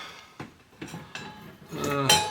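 Metal utensils clink and clatter as someone rummages through them to pick out a whisk for a quiche, several distinct close knocks and rattles, with a voice briefly at the end.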